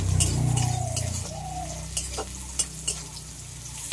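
Chopped onion and crushed garlic frying in mustard oil in a pan, a close sizzle with a low hum early on, then a few sharp spatula scrapes and clinks against the pan.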